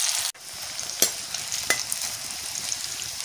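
Onions sizzle in a pan with a steady close hiss, while a few sharp spatula knocks and scrapes stir through the frying.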